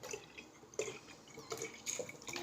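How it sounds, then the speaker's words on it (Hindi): Milk pours into a glass of cold coffee, giving soft irregular splashing and dripping sounds at low volume, close by, with no talk. "लेट्स सी फ्रेंड इसमें डालते हैं दूध।"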